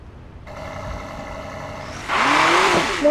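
A BMW car with a 1695-horsepower engine holds a steady harmonic drone, then surges into a louder, rougher rev with rising pitch near the end, with no talk.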